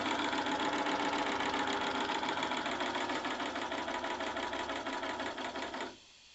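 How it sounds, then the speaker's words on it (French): Live steam engine of a model speed boat running out of the water, a loud, fast, even mechanical chatter that holds steady for about six seconds before abruptly dropping to a faint hum. "Cette machine de vitesse tourne gentiment, encore à ces 2 barres, dans l'eau."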